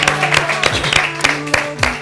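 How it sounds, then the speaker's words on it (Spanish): A television studio audience claps to welcome guests, continuous applause with rhythmic clapping accents, moderately loud, while music plays underneath. "recibamos con un fuerte aplauso a Aurora y María"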